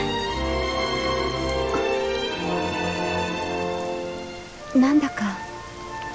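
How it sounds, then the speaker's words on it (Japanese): Rain falls in Dragon Quest XI S as a steady soft wash of drops, with game music playing over it and a short spoken voice near the end. "あなたと二人でいるとよく雨に降られる気がするわ。"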